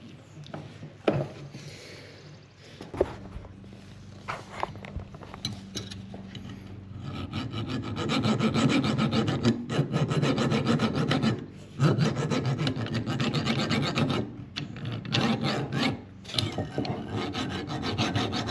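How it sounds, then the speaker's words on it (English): A hose is cut off the fitting of a Ryobi One+ 4-gallon battery sprayer, producing close, repeated rasping and scraping strokes with short pauses as the tool is worked around it, plus occasional clicks and knocks. "Just keep cutting it, keep rotating it until you cut it all the way off."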